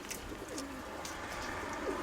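Pigeons, including feather-footed birds, coo softly in a loft, low rolling calls rising and falling over steady background noise.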